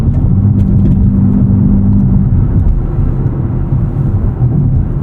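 A 2024 Nissan Z NISMO sports car accelerates hard through the gears at night, its engine a loud, close, rumbling roar heard from inside the cabin, with a steady tone shifting briefly near the start.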